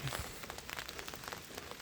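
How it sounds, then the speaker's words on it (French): Rain falls steadily on a trek to Island Peak in Nepal, a soft continuous patter with scattered individual drop ticks, faint and distant, with no voices. "Et on n'a toujours pas autre chose que de la pluie."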